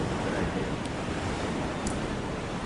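Steady broadband wash of rough ocean waves and surf, loud and continuous with a windy roar throughout, no voices.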